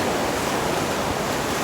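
Big surf rolls in on the Gulf of Mexico under red flag conditions, a continuous loud roar of breaking waves mixed with wind buffeting the microphone, with no voices.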